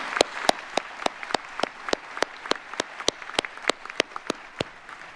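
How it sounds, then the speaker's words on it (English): Graduates at a college convocation ceremony applauding their supporters, a steady wash of crowd applause with one loud pair of hands clapping in a regular beat close by, no speech. "can you just join me in giving a big round of applause to all of the people who helped you to achieve this great accomplishment today?"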